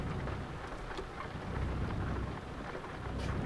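Dense, steady rainfall pounds a moving truck in Switzerland, a close, loud, unbroken hiss of drops on the cab with a low rumble underneath and no voices.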